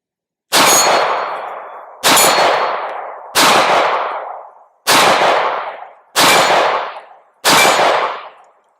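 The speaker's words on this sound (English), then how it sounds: "We'll try to hit the steel target about 20-25 yards." Six MX19 aluminum-frame pistol shots fired outdoors at a steel target about 20 to 25 yards away, loud sharp reports evenly spaced about a second and a half apart, each ringing off briefly.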